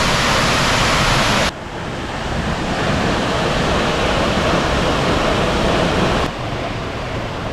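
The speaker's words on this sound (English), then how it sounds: "But as we neared the waterfall, it was worth every muddy step." A rainforest waterfall in Costa Rica gives off a loud, steady roar of rushing water. The roar stays unbroken and close throughout, with no voices.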